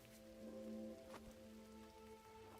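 Rain falls in the melancholy blue world of the video game Gris, a soft, steady hiss at low level with gentle tonal music sustained beneath it.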